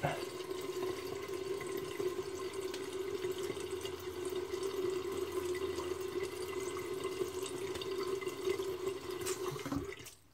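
Water runs steadily from a tap as a face is rinsed after shaving, with faint splashing and dripping throughout at close range, alone, ending with a brief clunk.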